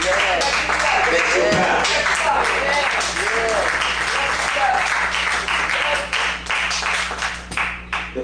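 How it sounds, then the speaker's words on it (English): A church congregation claps along during a sermon, steady loud hand clapping under a voice talking and calling out, with rhythmic claps continuing throughout. "Give me a hand clap."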